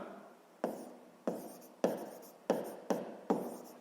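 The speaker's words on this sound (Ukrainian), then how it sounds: "давайте запишемо коротко цю умову" Pen or chalk writing out a sixth-grade math problem by hand, six quiet, evenly spaced scratching strokes, each a short sharp tap trailing off, close and alone.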